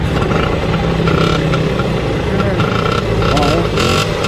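A motorcycle engine runs loud and steady at close range, rumbling continuously with a rough clatter under voices talking.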